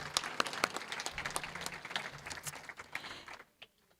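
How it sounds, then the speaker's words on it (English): A small audience at a remembrance gathering claps for a 105-year-old veteran, scattered individual claps with sharp distinct hits rather than a dense roar, thinning out and stopping near the end. "Yeah, we should clap for that."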